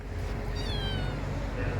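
A black cat meows in a street of Jerusalem's Muslim quarter, rising harmonic cries standing out clearly over a steady background hum, with a voice faintly present.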